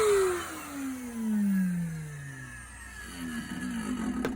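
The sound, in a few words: grinding worn motor bearings of Numatic Nuvac VNP180-1 car vacuum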